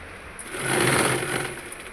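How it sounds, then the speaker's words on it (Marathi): A sewing machine runs in a short steady burst while stitching along the edge of a small cloth baby cap, its motor whirring louder in the middle and easing toward the end, with no talking. "हळूहळू शिलाई मारत जायचं आहे"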